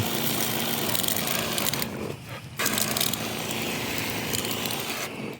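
A Ryobi 18V One+ 4-gallon battery backpack sprayer hisses steadily and loudly at its highest setting, cutting out briefly partway through before resuming, then stopping at the end.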